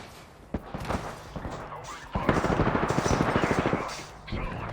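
Video game gunfire: a single shot, scattered pops, then a long rapid automatic burst rattling close and loud before trailing off into a few more shots.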